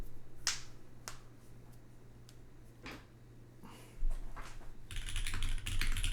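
Keys clack on a Pangea fullsize mechanical keyboard fitted with Nixie switches, a sparse series of distinct sharp clicks, quiet and close, then a faster burst of louder typing near the end.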